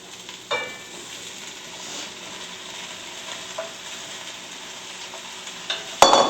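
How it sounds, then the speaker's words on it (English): Large bowl of vegetables dumped into a hot pan for a vegetable medley marinara, followed by a steady close sizzle of frying with scraping stirs and a few sharp clatters near the end. "And now I'll just dump this big bowl of vegetables right in."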